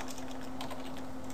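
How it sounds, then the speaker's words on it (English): Computer keyboard keys clatter quickly as a web link is typed on a Windows 7 PC, a close, steady run of light clicks over a faint electrical hum. "then type a link. I'm going to type"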